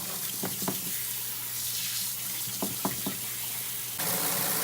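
A water sprayer rinses caked mud off a waterproof RC truck, a steady hissing spray with a few sharp splashing bursts and a louder surge near the end.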